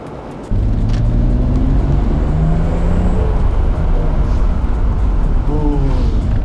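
Nissan GT-R R32 driving and accelerating, heard from inside the car as a loud, steady engine drone whose pitch climbs toward the end, with faint talk underneath.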